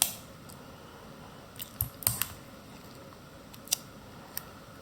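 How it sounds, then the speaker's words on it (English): Scissors snip through felt that has a paper circle taped to it, giving a few quiet, close crisp cuts spaced irregularly against a faint background hiss. "So I'm going to do the same sort of cutting, opening my scissors fairly wide"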